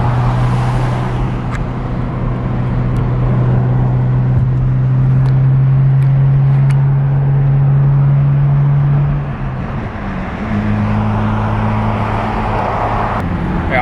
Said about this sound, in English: If you feel like your car doesn't have enough power, just give it more gas.